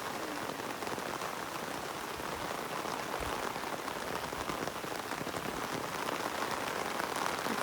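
Steady, dense rain pattering on an open umbrella in a vegetable garden, a loud continuous patter close overhead with no voices.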